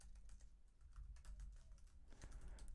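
Light, rapid typing on a computer keyboard, a quick irregular patter of soft key clicks heard close up against a low background hum.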